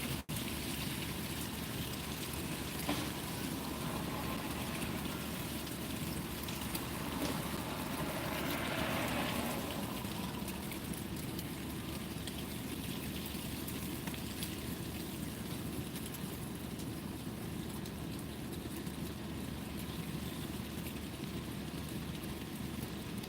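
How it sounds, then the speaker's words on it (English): Steady, broadband rushing of wind outdoors blowing leaves about, continuous and fairly soft, with a brief gust swelling partway through. "Pretty windy."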